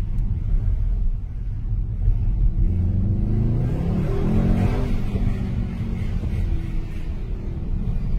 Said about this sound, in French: T'as vu, ça pétarde un tout petit peu.